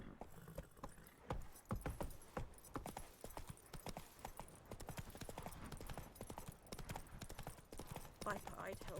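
Hooves of Roach, the horse in The Witcher 3, clip-clop in a steady brisk rhythm throughout, fairly loud and close, with a faint jingle of tack and occasional speech over the top.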